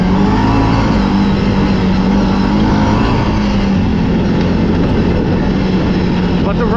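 A 2024 CFMoto CForce 800 XC ATV engine pulls hard under acceleration, a loud, steady drone that rises throughout, with a person talking over it.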